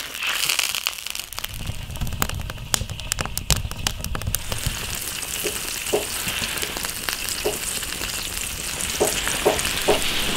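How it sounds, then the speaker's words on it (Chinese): Fatty cured pork stir-frying in an iron wok, with a steady close sizzle of rendering fat and clattering stirring strokes early on, continuing alone. "这个肉确实有点肥，一炒它油还出来了"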